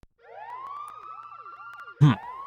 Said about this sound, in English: we can leave this annoying whining sound